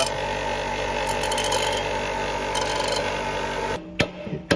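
An angle grinder cuts into a cheap aftermarket rear bar for a Land Cruiser 105 series, giving a steady, high-pitched whine that stops abruptly near the end and is followed by a few light clunks.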